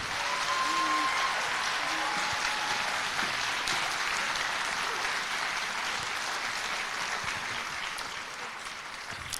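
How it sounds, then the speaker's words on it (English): An audience at a senior awards program claps steadily for academic award winners, a dense continuous wash of applause that fills the room and fades slightly toward the end. "Let's give our academic award winners a round of applause"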